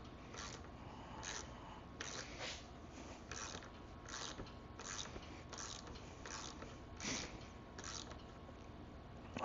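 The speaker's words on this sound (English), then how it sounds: "This will allow me to push this wheel in so I can get this chain off." Repeated sharp metallic clicks, close and steady, while the chain is worked off the rear wheel of a 1974 Suzuki MX100 motorcycle under restoration, over a low background hum.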